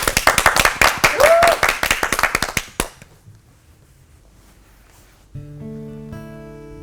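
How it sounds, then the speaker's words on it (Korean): A church audience claps in a regular, rhythmic beat for a gospel song, loud and close, then stops abruptly, leaving near silence before soft music tones begin. "한번 우리 박수."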